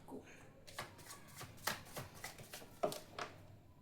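Tarot cards are shuffled in quick, soft riffling bursts at an uneven rhythm, close up and fairly quiet, with a faint voice in the background.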